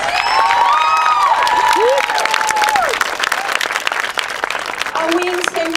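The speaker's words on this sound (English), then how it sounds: "Please clap louder" A Relay For Life audience claps and cheers loudly and steadily, with whistles and shouts rising over the dense applause while a voice carries through the crowd noise.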